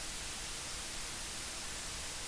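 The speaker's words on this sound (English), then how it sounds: "we're now just going to hear the hiss of one of the units" Steady analog hiss from a Waves plugin's Analog button on one unit, a constant broadband static that is faint and fills the whole clip alone.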